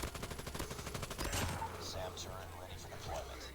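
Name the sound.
gunfire from a mobile video game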